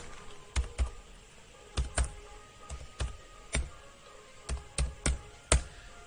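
Fingers type a school code on a computer keyboard in quick clusters of crisp, close keystrokes separated by short pauses, with no talk over them.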